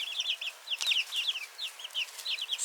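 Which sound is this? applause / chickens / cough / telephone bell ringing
chickens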